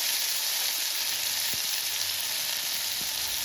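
Ground cumin paste frying in hot oil with dried red chilli, bay leaf and nigella seeds, a loud steady hiss of sizzling with a couple of faint taps from the pan.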